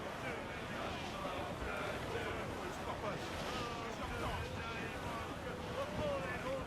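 A sailing ship rides through a squall in Assassin's Creed IV, with steady roaring wind and crashing waves surging throughout, a continuous dense wash of sea and gusts.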